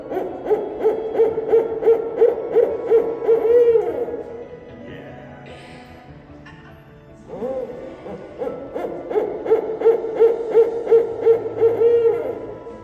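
Repeated hooting calls of a swamp-dwelling Florida owl from wet wooded habitat, loud rhythmic phrases in two bursts separated by a quieter gap, with no one talking.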